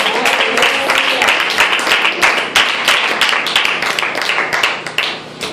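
A church congregation applauds for Christ, a dense, steady wash of many hands clapping throughout, close and loud, with faint voices mixed in.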